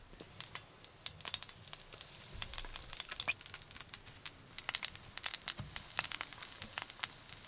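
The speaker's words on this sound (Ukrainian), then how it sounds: "Розігріваємо і обережно кладемо на гарячу сковорідку сир." Steady crackling sizzle of breaded cheese frying in hot oil in a pan, with scattered sharp pops over a continuous hiss, fairly quiet and close.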